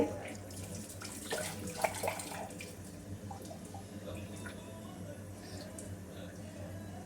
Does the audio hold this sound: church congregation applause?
no